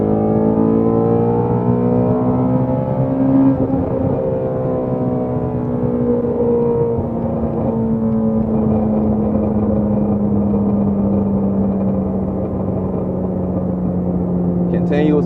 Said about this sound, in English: Continuous pops. Holding the accelerator on decel, that's all we're doing.